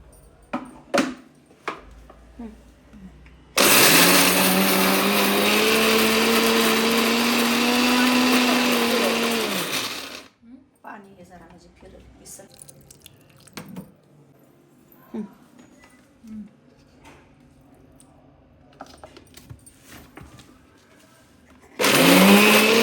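A small mixer grinder jar crammed with fish fry masala grinds loudly for about six seconds, its motor whine steady and close, with quieter kitchen handling sounds before and a second burst starting at the end.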